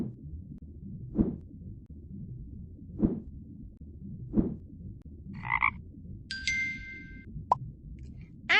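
Pond frog in the children's game Elinor Wonders Why, giving three evenly spaced low croaks over a faint wet ambience, followed by a few bright chimes and bubbly game effects.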